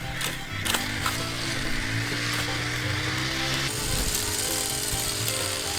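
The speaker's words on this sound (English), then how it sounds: "This is the toy hedge trimmer." A toy hedge trimmer's mechanism whirs and ratchets with a buzzy geared hum and a few sharp clicks near the start, shifting pitch partway through, close and fairly loud.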